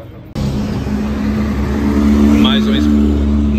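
An Expresso Planalto city bus idling and moving at the central urban bus terminal of Pouso Alegre, a loud, close diesel engine rumble that rises slightly, with a brief squeal near the end.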